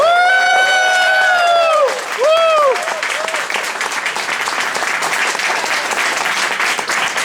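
Audience in a San Francisco hall applauding to welcome the Boston mayor onstage, sustained clapping and light cheering, with a voice speaking over the first couple of seconds before the applause carries on alone.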